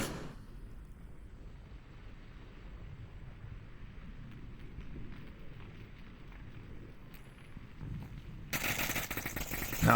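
Gunfire in the VR shooter Onward during a competitive league match, a continuous gritty rattle of distant shots that swells into a harsh, loud burst near the end, without clear speech over it.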